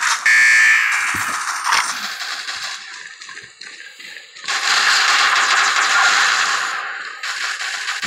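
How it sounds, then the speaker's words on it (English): A small laser gun in Shadowgun DeadZone fires in rapid, buzzy bursts of tiny shots, loud and close, with a lull in the middle before another long stream of fire. "I'm using that damn little laser. It's all like little BBs coming out of it."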